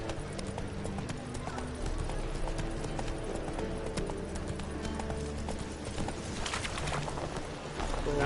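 Horse galloping in The Witcher 3: Wild Hunt, Hearts of Stone, with steady rhythmic hoofbeats under game music and a voice speaking over the ride.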